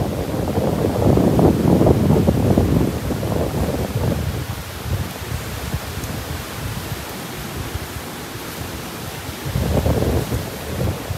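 Heavy rain pours over a beach at high tide, with deep thunder rumbling beneath a steady, loud wash of rainfall and wind that swells and eases without pause.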